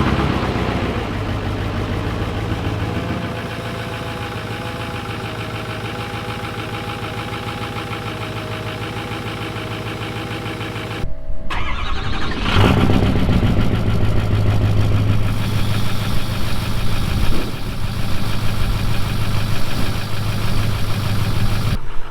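A 6.0 Powerstroke diesel truck engine fitted with a 6.7 Powerstroke starter idles steadily, then briefly cuts out before it cranks and restarts into a louder, rougher running rumble that continues close by.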